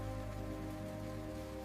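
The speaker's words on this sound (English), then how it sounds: "the sound of the rain brings a profound sense of peace" Rain falling steadily over an Alpine mountain village in Switzerland, a dense, even patter that stays constant and fairly quiet, with no voices.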